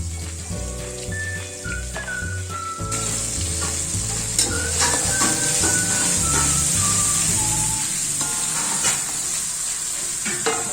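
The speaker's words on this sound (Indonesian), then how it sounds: "Kita oseng-oseng sampai si bumbunya ini benar-benar tercium wanginya." Ground spice paste for beef semur sizzles and crackles steadily in hot cooking oil while being stirred in the pan, a close continuous frying hiss with occasional scraping.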